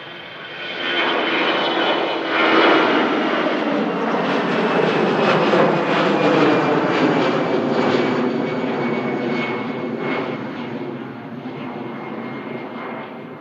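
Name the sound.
jet airliner departing from runway 23 right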